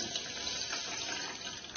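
Water runs steadily from a tap into a cooking pot of sugar, a continuous even splashing hiss lasting the whole moment, close and fairly loud, with no voices.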